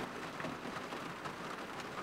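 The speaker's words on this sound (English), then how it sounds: "It's the sound of rain on Basil's rooftop" Rain patters steadily on a rooftop in the South African bush grasslands, a soft, even hiss of drops with no voices, fairly faint and continuous.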